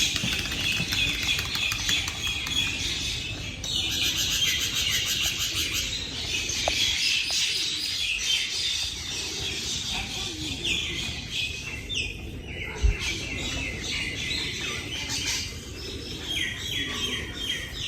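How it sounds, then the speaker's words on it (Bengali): Many birds chirp and call continuously in the Nuhash Palli garden in Gazipur, with bright overlapping tweets and trills at moderate distance against a quiet outdoor background. "আর এখানে আসতে কিন্তু আপনারা এভাবে পাখির ডাক শুনতে পাবেন।"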